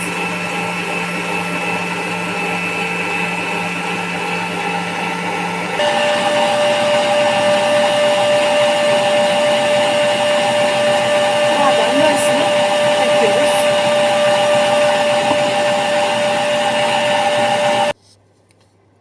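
An electric mixer whips egg whites with sugar in a steady, loud whir that holds nearly to the end. The motor steps up to a higher speed about a third of the way through and cuts off abruptly near the close.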